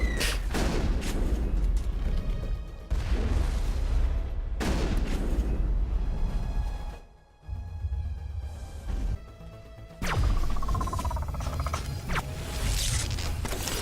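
Gunfire in the video game Mass Effect, with repeated bursts of rapid shots and booming impacts, loud and dense, with brief lulls between volleys.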